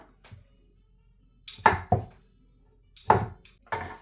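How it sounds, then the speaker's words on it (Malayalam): Knife chopping grapes on a board for a mixed fruit pickle, a few distinct crisp cuts spaced out with short pauses, close and clear with no talking. "അരിഞ്ഞെടുക്കാം മുന്തിരിങ്ങ ഇങ്ങനെ ഒരു മുന്തിരിങ്ങ ഇങ്ങനെ കഷ്ട ചെയ്തിട്ടാൽ മതി മൂന്നായിട്ട്"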